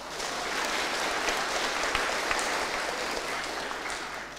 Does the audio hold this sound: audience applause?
yes